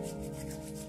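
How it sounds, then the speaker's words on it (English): Palms and backs of hands rub together in a steady, close, soft dry swishing that continues without pause and with no talking. "We're going to rub onto the backs of our hands as well as the palms."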